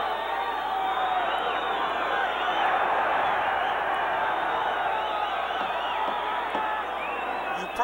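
A boxing crowd roars steadily at a pro fight between Henry Martinez and Johnny Tapia as Tapia plays to the audience, a dense continuous wall of cheering and whoops with no break.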